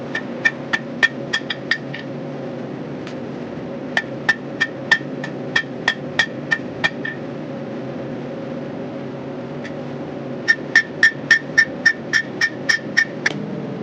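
A blacksmith hammers hot forged steel on an anvil, flattening the center section of a longhorn bull head coat hanger. Sharp ringing strikes come in quick rhythmic bursts with pauses between, over a steady background hum, and no one speaks.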